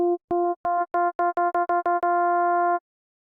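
Synthstrom Deluge synth playing a plain sine oscillator with FM modulation: a run of clean, bright tonal beeps with harmonic overtones, quickening in rhythm and ending on one sustained held note, no voices.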